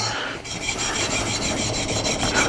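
New Narex chisel being polished across its edge on a sharpening stone, a steady close rasping rub with rhythmic back-and-forth strokes, fairly loud with no voices.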